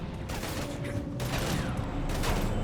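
Rapid gunfire in Mass Effect 3 forms a dense, continuous loud barrage of shots and mechanical clatter throughout.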